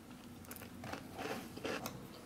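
A crunchy MRE cookie with raisins from a 2009 Ameriqual APack Hearty Beef Stew meal being bitten and chewed up close, giving a few quiet crackling crunches over low room noise.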